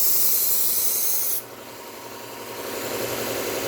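A Global kitchen knife is being sharpened, giving a steady abrasive rubbing that runs the whole time, bright and loud at first, then duller after a brief drop, with no talking.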